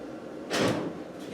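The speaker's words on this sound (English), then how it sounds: "I'll just open the window a bit." The window of a Spanish 110 300Tdi is opened with one brief, close rustling slide lasting under half a second, against steady low background noise.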